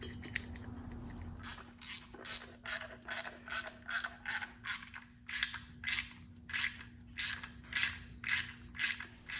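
A hand ratchet tightening nuts onto engine case studs, repeated bursts of rapid clicking in a steady back-and-forth rhythm, close and clear.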